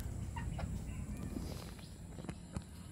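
Pure gray gamefowl chickens clucking softly on a farm, with scattered short calls and scratching or footstep noises over a low, steady outdoor background hum.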